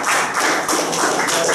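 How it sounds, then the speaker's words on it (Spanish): Loud, sustained applause from a crowd honoring a group of stewards at a 2015 local inauguration ceremony, with dense clapping running unbroken throughout. "Fuertísimo aplauso pues a esta mayordomía."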